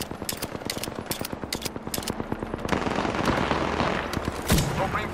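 Rapid automatic gunfire in Apex Legends, a dense rhythmic burst of sharp shots that gives way to a louder, sustained roar of mixed firing and impacts, up close.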